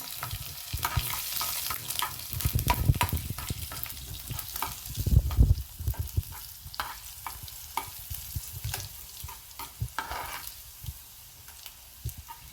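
Asafoetida and garlic fry in a pan for a vegetable dish, producing a soft, steady sizzle with frequent stirring scrapes and taps, louder early on and easing later. No one speaks.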